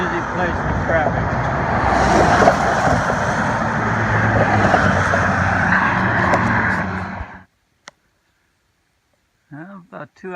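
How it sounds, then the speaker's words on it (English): Busy road traffic near the Delaware River makes a steady, loud rumble of passing cars and trucks for about seven seconds, then cuts off into near silence, with a few brief sounds near the end. "Very busy place with traffic."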